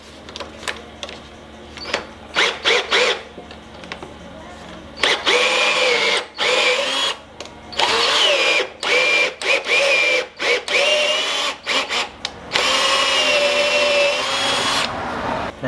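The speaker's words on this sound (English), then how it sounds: "Put my drill on and we'll whiz that out." A power drill drives a thread tap through a damaged bolt hole during a Ford Escort RS Cosworth restoration, whirring in repeated short bursts, then longer steady runs, loud and close with no talk.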